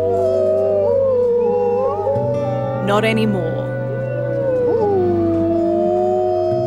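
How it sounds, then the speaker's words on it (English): Long, wavering wolf howls rise and fall in pitch, with a brief yip partway through; a voice speaks a few words over them. "that deep guttural howl of a wolf come up out of a dark night"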